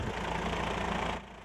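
A high-tech tractor used by Vietnamese unexploded-ordnance clearance teams, fitted with an oversized metal detector, computers and GPS, idles with a steady, fairly close engine rumble that eases off slightly near the end, with no talk.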